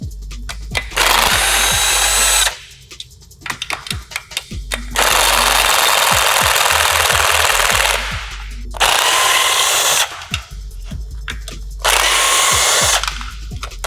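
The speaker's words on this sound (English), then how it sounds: "we're gonna start removing the bolts all the way around" Power tool, likely an impact driver or drill, removing oil pan bolts on an LS engine, in four loud bursts of whirring and rattling separated by short pauses with faint clanks.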